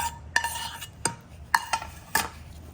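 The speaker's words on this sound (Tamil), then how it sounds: "வடிவாக மிக்ஸ் பண்ண போகிறேன்." Chilli chicken with fresh tempering gets stirred in a pan, a spoon knocking against the metal in a series of sharp, ringing clinks spaced irregularly over a low background.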